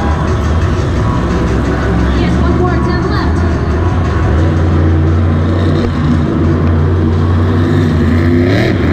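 Ryan Anderson's monster truck at a Monster Jam show in Houston, a loud continuous engine roar with rising and falling revs, heard under a commentator talking throughout.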